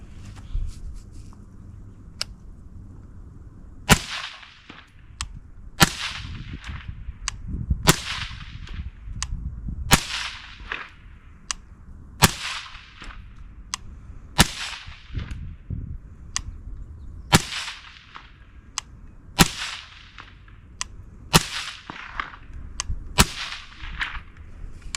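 A Ranger 5 suppressor is fired ten times, each round giving a sharp crack with a brief decay. The shots come at even intervals of roughly two seconds and are heard alone, without talk.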